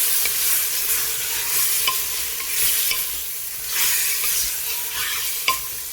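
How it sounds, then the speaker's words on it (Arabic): Tripe (kersha) stirred and fried in oil in a pan for tqlia, a close, steady sizzle broken by repeated scraping and clinking stirs, with no voices. "كنزيدوها على هذا الزيت كنخلطوها مباشره باش ما كتلصقش لينا"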